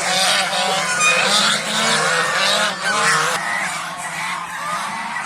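A flock of improved-breed geese honks loudly and continuously close by, their overlapping nasal calls forming a dense, noisy chorus.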